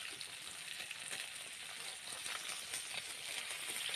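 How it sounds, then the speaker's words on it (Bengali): Salted, turmeric-coated rohu fish pieces fry in hot oil, giving a steady, close crackling sizzle that holds evenly throughout without any voices. "এবার লবণ হলুদ মাখিয়ে গরম তেলে লাল লাল করে ভেজে নেব।"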